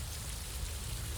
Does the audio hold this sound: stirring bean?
no